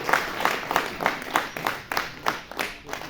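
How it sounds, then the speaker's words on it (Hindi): Audience applause at a book release function, a crowd clapping steadily at moderate volume with rhythmic peaks throughout, no talk over it. "जोरदार तालियों के साथ।"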